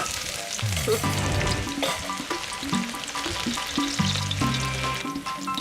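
Onions frying in oil in a pan on a stove over medium heat, a continuous close sizzle with light stirring under a constant musical tone in the background.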